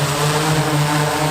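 A Drobotron DL1200 drone lifting off, its propellers whining in a loud, steady close buzz with a strong constant tone, no talking.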